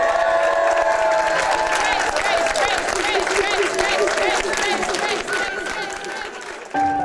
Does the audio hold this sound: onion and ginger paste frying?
no